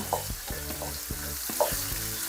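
Pork loin stir-fried with garlic in a hot pan, a steady sizzle with repeated scraping strokes of a spatula at an even rhythm, close and alone.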